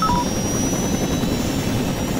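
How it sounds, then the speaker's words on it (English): A helicopter in Saints Row 2, an unmarked chopper, flies with a steady broadband rotor and engine roar. It holds a constant loudness for about two seconds, with no talk over it. "So we're taking an unmarked chopper to blend into the crowd."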